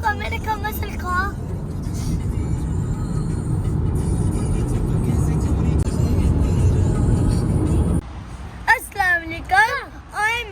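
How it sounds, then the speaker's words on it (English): An American muscle car passing on a road near Blackpool, a rising engine rumble that swells and holds for several seconds, then cuts off as voices and chatter take over at the end. "Look, America muscle car."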